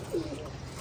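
A pigeon gives a single short, soft coo at close range in a cage setting, surrounded by a faint steady background hum.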